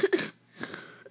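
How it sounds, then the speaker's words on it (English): Two short, sharp coughs close together at the start from someone who is sick, then a softer throaty rasp; nobody speaks. "Sorry about my cough, I'm a little sick."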